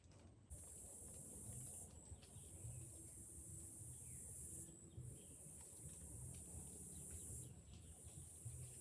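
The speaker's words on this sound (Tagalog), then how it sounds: "Daming ibon sa taas." Dense chorus of birds calling overhead in the Philippines, a continuous high shrill din of many voices with a few brief pauses, steady and loud against low ambient rumble, no talking.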